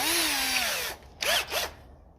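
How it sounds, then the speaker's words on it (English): A drill bit boring into the steel registration plate of a 1954 Ferguson 20 TEF tractor: a loud close whine that sinks in pitch and cuts off, then two short, sharp bursts of drilling. "There's a good chance that the drill bit will just skate around."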